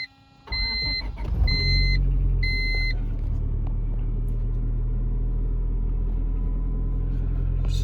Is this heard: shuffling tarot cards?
no